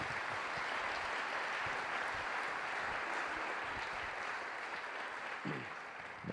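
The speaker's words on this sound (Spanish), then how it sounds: "primero un aplauso." Audience applause at a branded-content conference, a steady wash of many hands clapping that holds at an even level, then thins slightly toward the end.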